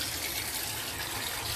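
Running water rinses a dyed hair extension, a steady full hiss of flowing tap water with no breaks and no talk.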